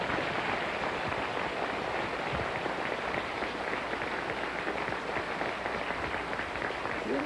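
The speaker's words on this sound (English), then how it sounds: "Would you please applaud them?" A studio audience at a televised country music variety show keeps up sustained, dense applause, an even wash of clapping with no break.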